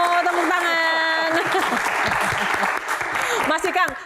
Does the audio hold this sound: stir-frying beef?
no